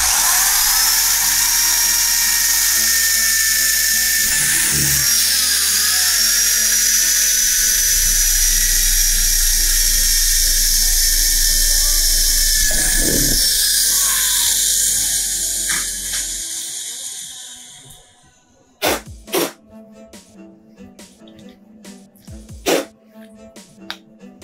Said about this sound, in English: so we gotta drill holes to start the skill saw.